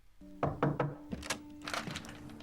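Knocking on a door in the 1998 film Pi: three firm, evenly spaced thuds near the start, then a couple of softer knocks, with a low tone humming underneath.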